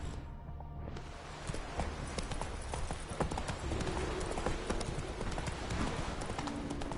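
Roach the horse galloping in The Witcher 3, with rapid, rhythmic hoofbeats close and steady over a busy wind-and-ambience bed, no voices.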